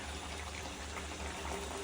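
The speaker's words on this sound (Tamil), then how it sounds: "இப்போ வந்து இதுல லைட்டா தண்ணி மட்டும் ஊத்திக்கலாம்." Water poured in a steady low wash into a pan of egg curry, a small amount trickling continuously and close for the whole moment without any talk.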